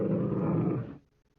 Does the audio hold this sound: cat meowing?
no